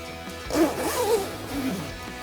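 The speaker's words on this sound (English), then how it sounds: "And then you can zip that up, the one over here as well." A zipper on an artificial leather seat cover for a 2015-2018 Dodge Challenger is drawn closed in a couple of quick rasping pulls, close by and moderately loud, with light handling noise around it.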